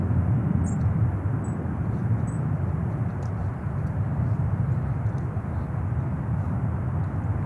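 An Airbus A321 jet lands on runway 31 at Charlotte, heard as a constant low engine rumble and wind-like rush at moderate distance, steady and unbroken throughout.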